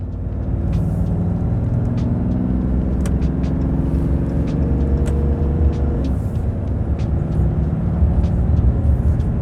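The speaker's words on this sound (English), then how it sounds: "That Cummins diesel knock is just very familiar, I guess, to me because it's that inline six." A RAM 3500 pickup with its Cummins high-output inline-six diesel accelerating hard on a highway: a steady, loud low-pitched rumble and drone with road noise, continuous throughout and no talking.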